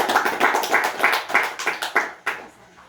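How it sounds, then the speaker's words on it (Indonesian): Group of students clapping for a classmate in a school group guidance session, a brisk burst of applause that gradually thins out and ends with a few last claps. "Beri aplaus untuk Review"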